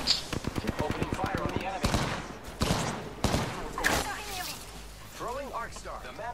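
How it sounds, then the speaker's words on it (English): Gunfire in the video game Apex Legends: a rapid burst of automatic shots followed by several heavier single reports, loud and close, with game effects and voice lines layered over it. "Opening fire on the enemy."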